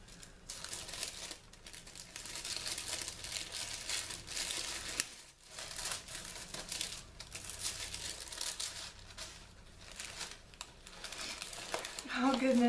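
Tissue paper crinkles and rustles during the unboxing of a Bonjour Jolie subscription box, a busy, continuous rustle running throughout under a voice, with a louder crumple near the end.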